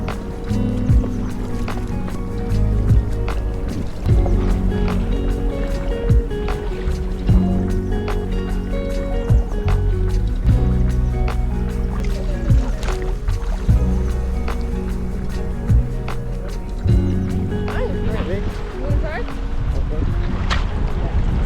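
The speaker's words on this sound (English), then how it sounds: "We decided to explore the coastline via kayaks that afternoon" Kayaks paddle on the sea along the Alaska coastline: soft, repeated watery splashes and knocks that run continuously beneath people talking close by.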